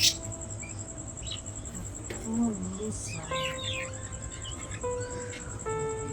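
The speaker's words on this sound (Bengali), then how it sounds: "কোয়েল পাখিগুলো।" Thin, high quail chirps and short peeps come in scattered bursts, near and moderately loud, over a steady high-pitched hum.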